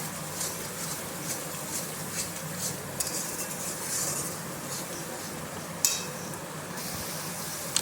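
A spoon stirs spices with turmeric and salt in a pan, giving a soft scraping and gentle sizzle with occasional light metallic clinks, fairly quiet and close, with no talking.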